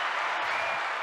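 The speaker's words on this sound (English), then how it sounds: "probably the applause." An applause sound bite, a brief dense burst of crowd clapping heard alone at steady moderate loudness.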